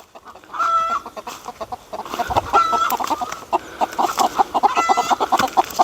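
Hens cluck repeatedly nearby in busy, overlapping bursts, a steady chatter of farmyard fowl.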